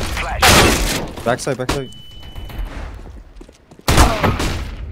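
Pistol gunfire in CS:GO, two sharp shots spread over a few seconds beneath a man's speech, each one followed by a brief fading tail.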